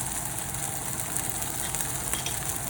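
Tofu browning in a frying pan for keto pad thai gives a steady, close sizzle of frying, even and continuous with small crackles throughout and no talking.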